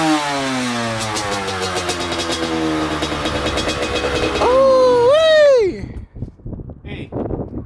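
A dirt bike engine fires up on a single kick and idles with a rough, close putter, then revs sharply up and down before cutting off. Voices shout over the end.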